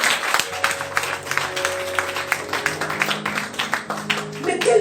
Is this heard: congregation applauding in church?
yes